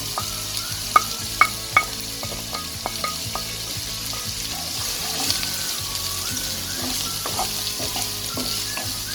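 Two medium onions, sliced, frying in a pan with a continuous sizzle, a few sharp clinks early on, and then steady scraping and stirring throughout, close and without talking.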